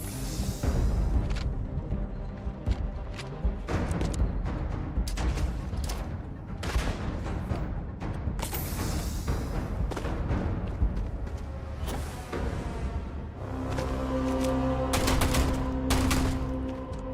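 Rapid gunfire from the space-exploration video game Starfield, played in hardcore survival mode: dense bursts of shots and booms fill the clip nearly continuously, loud and up close, with a short lull before heavier firing resumes near the end.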